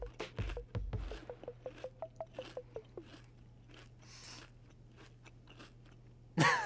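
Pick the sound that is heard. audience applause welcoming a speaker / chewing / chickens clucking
chewing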